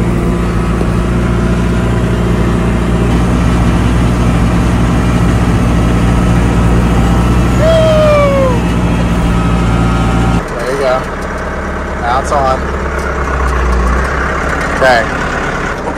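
Tractor engine drones steadily and loudly while mowing first-cutting hay with a Case IH 3309 discbine, the low rumble dropping in pitch partway through, with people talking over it.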